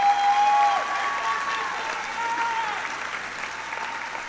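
An audience at a high school class night ceremony gives students a round of applause, sustained, even clapping that starts strongest and holds steady, with a faint tone or whistle sounding briefly early on.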